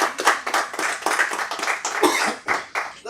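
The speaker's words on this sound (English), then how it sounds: "let's give a round of applause for everybody's effort." A room of course graduates claps for their own effort, a brisk uneven burst of hands from a modest group, fairly close and steady for a few seconds with no voices over it.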